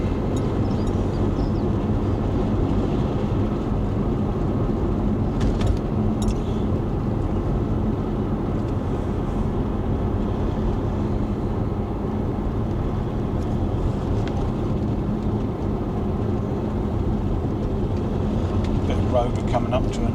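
A car drives through the British countryside between Ipswich and Ardleigh on patched, resurfaced rural roads, with a steady, close engine and road rumble running throughout and a person talking over it.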